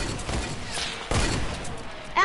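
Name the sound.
gunshots in the video game Fortnite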